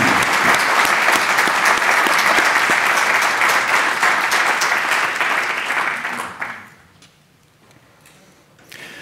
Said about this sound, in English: So if I could have a round of applause,